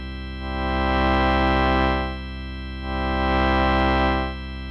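A sustained Crumar Sorrento organ chord at low volume with the expression pedal at minimum, swelling slightly louder and softening twice in slow waves, never fading fully to silence.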